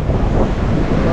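Strong wind buffets the microphone beside surging ocean waves at Bucana during a powerful typhoon, a loud continuous roar with no clear talk.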